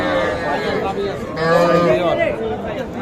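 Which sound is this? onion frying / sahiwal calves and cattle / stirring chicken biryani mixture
sahiwal calves and cattle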